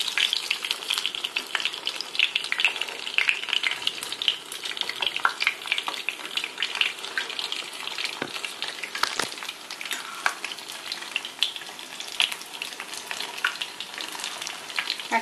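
Bread slices coated in egg frying in a pan, a steady close sizzle that runs the whole time, with occasional stirring and scraping sounds and no talk.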